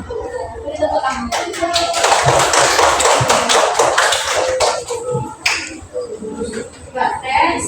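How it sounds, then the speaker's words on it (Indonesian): Second-grade primary school pupils clapping in a classroom, a loud burst of rapid, uneven hand claps rising and falling over several seconds, with children's voices and a teacher talking around it. "Beri tepuk tangan."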